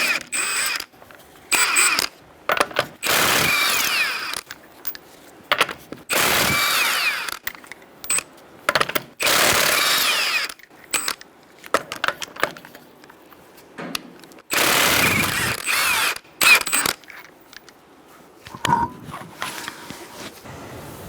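An impact or power tool spins off the front wheel lug nuts of a 2010-2013 Kia Soul with a 21mm socket, loud close bursts of whirring and rattling separated by short pauses, several runs in a row.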